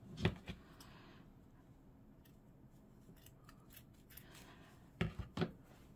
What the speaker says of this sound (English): Let me just cut some of that off.